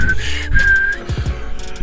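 A voice imitates a whistling nose with thin, high, wavering whistles in two short bursts, followed by a few low breathy grunts, close and clear.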